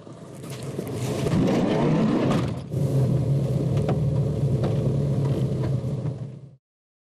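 A car's engine rumbles steadily while driving along a road toward a village, loud and continuous with a brief dip partway through, then cutting off to near silence at the end.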